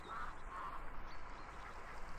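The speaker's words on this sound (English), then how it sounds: "Hey, ducklings!" Ducks quack in the VR Chat game Udon Bird Sanctuary, soft and somewhat distant, with a couple of brief calls over a low background hum.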